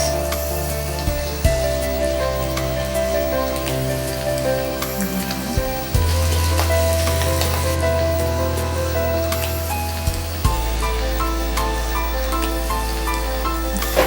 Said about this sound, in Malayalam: ഇനി നമ്മൾ ഓരോരോ റിങ്സ് ആയിട്ട് എടുത്തിടാൻ പോവാണ് എണ്ണയിലേക്ക്.